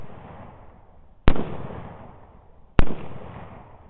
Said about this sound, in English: Shoot him again. You can keep shooting.